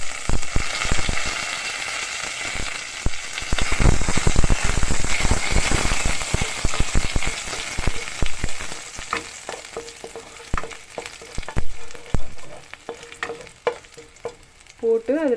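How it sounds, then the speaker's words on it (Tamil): Mustard seeds and cumin crackle and pop in hot oil as crushed garlic and curry leaves go in and get stirred, a close, busy sizzle with sharp spatters and scraping, no talking. "இப்போ கடுகும் சீரகமும் நல்லா பொரிஞ்சிருச்சு. இதில் வந்து நம்ம தட்டி வச்சுருக்க பூண்டு, அப்புறம் கருவேப்பிலை,"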